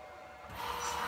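A Bridgeport J2 milling machine spindle driven by a ClearPath servo motor spins at about 1,100 RPM, a steady machine whine that rises in loudness partway through and holds.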